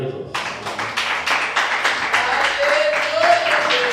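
A church congregation breaks into brief clapping in praise, a burst of hand claps that settles under a voice and a sustained tone from an instrument.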